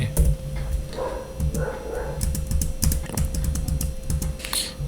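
Keys clatter on a computer keyboard while Python code is typed, a busy stream of sharp, close clicks in uneven bursts with a voice talking intermittently over them.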